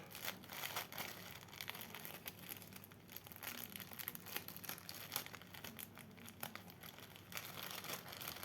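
Plastic packaging of a math sudoku toy crinkles and rustles steadily throughout as it is handled and opened, close and fairly quiet with irregular crackling bursts.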